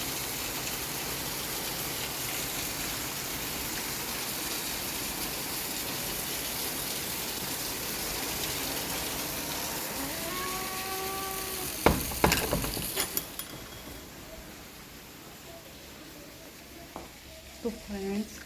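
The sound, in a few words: heavy rain falling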